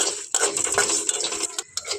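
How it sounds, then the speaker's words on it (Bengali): Dry spices for a handi chicken cooked on a gas stove without oil are stirred in a pan with loud, close metallic scraping and rattling, quick irregular strokes with brief pauses, and no talk. "এখন আমি এর মধ্যে সমস্ত মশলাটা দিয়ে দিচ্ছি, দিয়ে খুব ভালো করে আমি ভেজে নেব"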